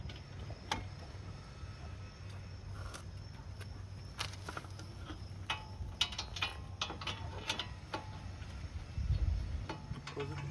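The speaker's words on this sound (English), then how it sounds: "So now these bolts we're torquing down 222 foot-pounds" A torque wrench ratchets in quick, close clicking bursts while tightening the front brake caliper bolts on a 2017 Nissan Murano, over a low background hum.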